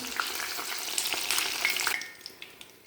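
Egg bajji fritters frying in hot oil, a dense bright sizzle with small crackles and pops that eases off toward the end.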